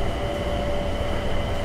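An airport terminal train carries riders to the B gate area at Washington's airport, with a steady loud rumble of wheels and motor and a faint sustained tonal whine, heard briefly and alone without talk.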